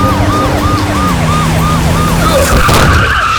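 In a dubbed movie scene, a siren wails repeatedly over traffic noise until a car skids and screeches with a sharp burst as it strikes an old man. No one speaks.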